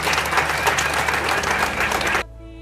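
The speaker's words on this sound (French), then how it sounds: "Vos applaudissements, s'il vous plaît." Audience applause at the inauguration of the Afia Don Bosco building in Congo, a dense burst of clapping from a crowd that cuts off abruptly near the end.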